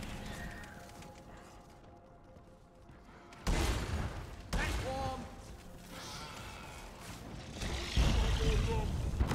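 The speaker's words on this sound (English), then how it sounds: "that's a lot of exploders" Exploder enemies going off in Deep Rock Galactic, heard as several loud broadband blasts in succession amid game noise, with people talking throughout.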